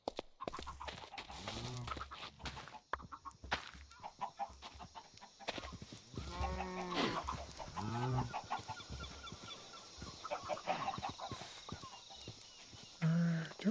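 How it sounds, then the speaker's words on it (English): Wild chickens in the video game Minecraft give repeated clucks and squawks in scattered bursts, fairly close, while a voice talks intermittently over them. "Maybe more wild chickens, guys."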